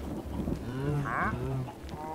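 Cows in the Minecraft video game let out a low, drawn moo with a brief higher bellow partway through, heard alone over a steady background hum.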